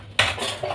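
Utensils and dishes are washed in a home kitchen with detergent powder, giving sharp clinks and scrapes of metal and crockery, close and loud, with no talk.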